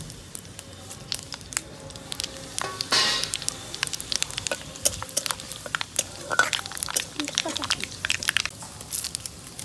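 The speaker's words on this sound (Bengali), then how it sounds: "ফোড়নের মধ্যে দিলাম শুকনো লঙ্কা আর কিছুটা 5 ফোড়ন" Dried red chillies and five-spice seeds fry in hot oil for Bengali shukto, a steady close crackle and sizzle with sharp pops and scattered spits, with a voice talking over it.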